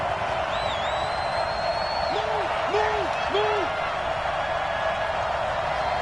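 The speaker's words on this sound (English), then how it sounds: "the crowd getting into it as we come up on a big 3rd down" Stadium crowd in a PS4 football video game roars steadily ahead of a big third down, a continuous loud cheer with a few whistle-like hoots rising above it.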